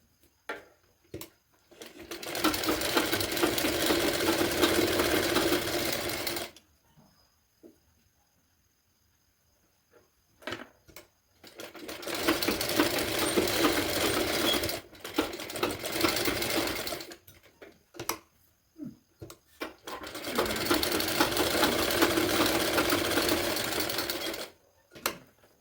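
A sewing machine stitches tucks into a cotton blouse in three long, steady runs of close, even whirring, with short pauses and small clicks between them, with no talking.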